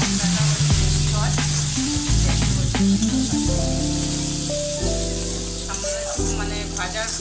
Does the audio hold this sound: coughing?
no